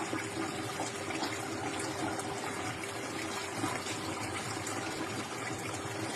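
Water runs steadily from a tap while clothes are being washed at home, a continuous close splashing flow with no speech over it.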